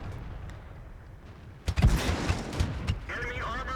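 Tank cannon shots in the World of Tanks game, a pair of sharp booming reports close together followed by rumbling echo and lower impact thuds, loud against a quieter game backdrop.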